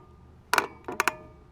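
A creaky mountain bike with suspension in need of an overhaul gives a couple of short, sharp clunks and rattles close by, with a quiet gap between them.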